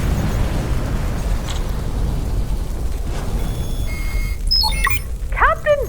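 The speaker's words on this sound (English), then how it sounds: "Simon and Carl obliterated Zippy in a fiery explosion." A fiery explosion in a comedy sci-fi audio drama: a dense, loud low rumble that rolls on for several seconds, followed by chirpy electronic bleeps and warbling tones near the end.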